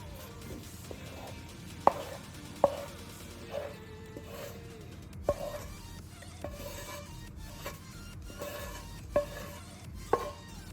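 Pistachio bun dough is kneaded by hand in a bowl, producing soft, quiet squishing and slapping at close range, with a sharper knock against the bowl every second or so over a faint background hum.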